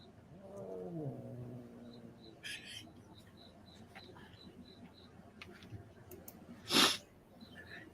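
A cat gives a drawn-out, wavering meow early on, fairly faint against room noise. Later come a few soft clicks and one sudden loud burst, with indistinct voices nearby.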